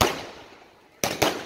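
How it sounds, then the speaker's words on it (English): A crackling burst fades out, then two sharp firework bangs go off in quick succession, loud and close. "the firework just hit me"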